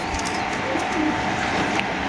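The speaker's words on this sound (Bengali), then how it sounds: "হোয়াইট রেজিস্টার কবুতরটা আমরা একটু ধরে দেখাবো আপনাদের" A white register pigeon coos softly in a loft, its low calls faint beneath a steady, noisy background hiss.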